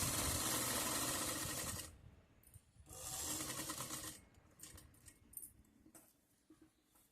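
A sewing machine stitches a zipper pocket on a pant in a steady run of needle clatter, stops, then runs again in a second burst before slowing into short, scattered mechanical clicks.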